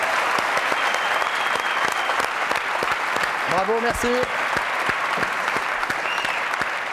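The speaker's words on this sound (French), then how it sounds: "Et il est applaudi par les gens qui sont ici." A studio audience on a French television show claps in sustained, dense applause while a presenter speaks over it, with a brief tonal flourish in the middle.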